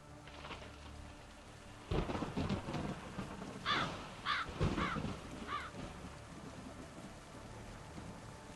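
Heavy rain pours steadily on the night streets of the video game The Hungry Town while loud thunder cracks and rumbles break through around the midpoint, and a few crow-like calls sound over the storm.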